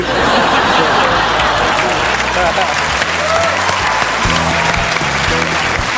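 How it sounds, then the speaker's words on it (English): A studio audience applauds loudly and steadily throughout, dense clapping with a little laughter mixed in. "Give them all a round of applause."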